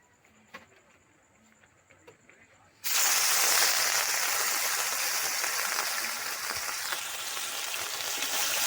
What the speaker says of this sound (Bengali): তেলটা ভালো মতো গরম হয়ে গেছে, এবার মাছগুলো দিয়ে দেবো একটা একটা করে।